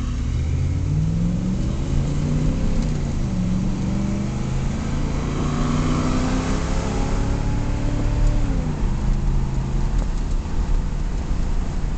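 A 1982 Pontiac Trans Am accelerates hard, its V8 engine loud and close, rising through the gears with clear shift breaks and climbing revs throughout.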